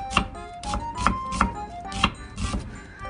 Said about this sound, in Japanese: 玉ねぎはね、ザクザクザクっても薄切りします。